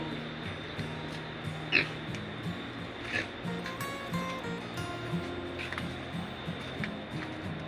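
Pigs grunt and oink repeatedly at low volume against a steady ambient background, with short snorts scattered throughout.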